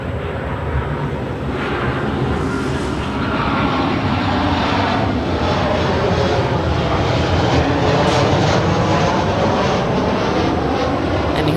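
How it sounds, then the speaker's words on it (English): A WestJet Boeing 737-800 airliner arriving from Calgary on approach to land at LAX, its engines making a loud, steady roar that holds throughout and swells slightly toward the end. "Here is a WestJet 737-800 coming in from Calgary"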